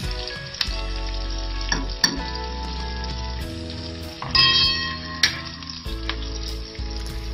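Onions and garlic with chili and turmeric powder frying in hot oil for a spicy bata fish curry, sizzling steadily and close up, with a few sharp spoon scrapes and clanks against the pan as it is stirred.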